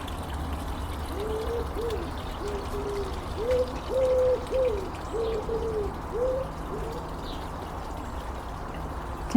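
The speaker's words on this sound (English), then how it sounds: "Can you hear our nemesis, the wood pigeon?" A wood pigeon coos in a garden, a soft low series of repeated hooting phrases in a steady rhythm, moderately distant over quiet outdoor ambience.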